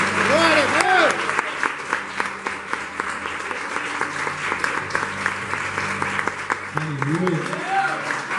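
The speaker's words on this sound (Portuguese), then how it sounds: "Aplauda o Senhor pela vida do pastor Cristiano, em nome do Senhor Jesus Cristo." Church congregation applauding during a worship service, sustained clapping with scattered sharp claps, while a preacher's voice rises above it at the start and again near the end.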